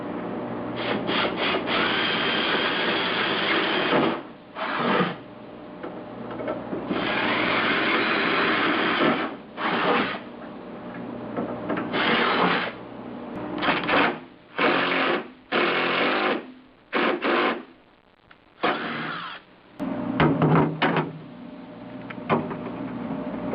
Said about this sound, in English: Pull this motor off so that I can drill the holes.